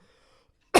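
A person coughs hard after water went down the wrong pipe, a sudden loud burst near the end that follows near silence with a faint background hum.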